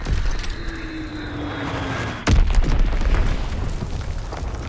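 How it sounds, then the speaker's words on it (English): A bomb blast in Call of Duty WWII lands as one loud, close boom with a heavy low rumble after a stretch of battlefield noise, and the rumble lingers afterward. "Enemy bomb incoming. Get to cover."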